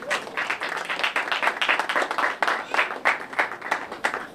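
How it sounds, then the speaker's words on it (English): A crowd at Boston's National Night Out public event breaks into applause: dense, continuous clapping from many hands, loud and close, swelling and dipping in waves for several seconds without speech. "So let's give ourselves a round of applause."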